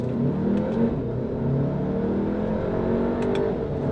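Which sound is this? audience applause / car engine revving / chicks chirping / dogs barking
car engine revving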